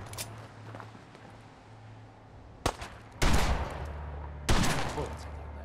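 Gunfire in Fallout 4 comes as a few loud, sharp bursts of rapid shots against a low background hum, the later volleys heavier and rattling on for a moment, with faint voices around.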